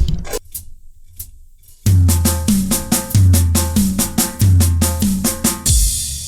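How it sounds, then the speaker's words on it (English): Drum triplets played on a kit, a steady run of punchy low-and-mid hits in a tight repeating rhythm after a quiet lead-in, finishing with a bright, hard crash cymbal hit that rings out at the end. "So if you're doing triplets, 1 triplet, 2 triplet, 1 triplet, 2 triplet, and on the end of the measure, boom, which sounds something like this."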